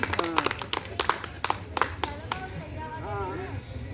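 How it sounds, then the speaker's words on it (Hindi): A small group claps at a public gathering, scattered sharp hand claps in an uneven rhythm over the first couple of seconds, with a voice speaking over and after them. "वो आप ताली बजा दो भाई।"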